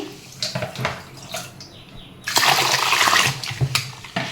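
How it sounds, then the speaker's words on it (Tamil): Water is poured into a bowl of ration rice to rinse it for idli batter, a close gushing splash that starts suddenly after faint handling noises and runs steadily for about two seconds. "இப்போ வந்து நல்லா தண்ணி ஊற்றி"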